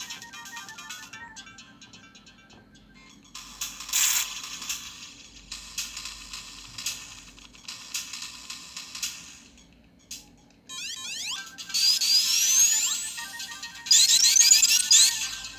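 Sonic music and effects playing from a Mega Drive emulator on an Anbernic S100 / Powkiddy V90 handheld, bright tinny chiptune in bursts and jingles, fairly loud and alone.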